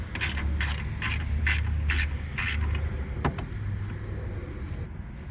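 A ratchet fitted with a 10mm socket loosening the battery clamp on a 2011 Ford Focus SE 2.0L, six quick rhythmic clicking bursts close up, then a sharp metallic tick and quieter handling noise.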